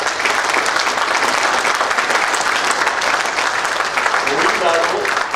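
Loud, sustained applause from a Rotary club audience at a 2022-23 team installation, honouring last year's board members; many hands clap densely with a voice briefly audible near the end.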